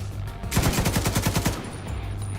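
Enemy machine gun fire in The Division 2 rattles in a fast burst of about a dozen loud, evenly spaced shots lasting roughly a second, then stops.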